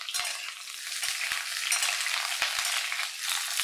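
Potol, papaya and other chopped vegetables sizzle and crackle steadily in hot oil in a pan for a Bengali vegetable curry, with a few soft stirring knocks, close and fairly loud, no talking.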